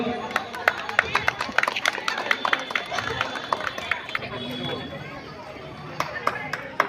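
At a Shivaratri community gathering in a municipal ward of Rajpur Sonarpur, scattered claps ring out over a busy murmur of crowd chatter, the sharp hand claps irregular and moderately close.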